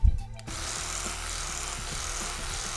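After a brief knock, an electric toothbrush switches on and buzzes steadily at close range, a low even motor drone with no talk.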